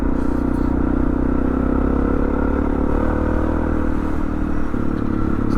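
A Suzuki DR650 motorcycle riding on an open country road, its engine droning loud and steady throughout along with wind and road rumble.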